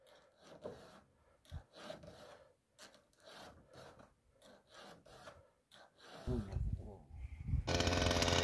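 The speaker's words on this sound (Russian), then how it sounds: "Наш местный специалист Николай точит пилы, будь здоров." A hand file sharpening a saw in a village, a steady run of rhythmic rasping strokes up close, with a louder burst of noise at the very end.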